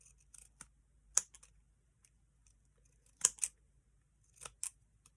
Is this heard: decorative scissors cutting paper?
yes